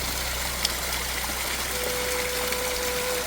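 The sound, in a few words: clear spring water flowing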